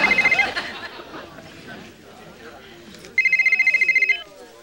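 A telephone rings in a sitcom scene, with a short trilling burst at the start and a louder, steady rapid trill near the end, while chatter and talk carry on between the rings.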